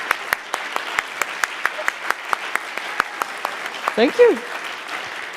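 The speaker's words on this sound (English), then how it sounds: "So, applause." Audience applause fills the clip, a steady wash of clapping with sharp individual claps standing out, and a voice briefly speaks near the end.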